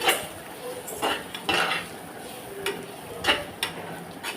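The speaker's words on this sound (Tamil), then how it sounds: "பீட்ரூட்டில் தேங்காய் துருவலை சேர்த்து நல்லா கலந்து விட்டு ஆஃப் பண்ணிவிடுங்க" Utensil scraping and clinking in a pan while beetroot poriyal is mixed with grated coconut, a few sharp metallic taps over a soft steady background, close and moderately loud with no voices.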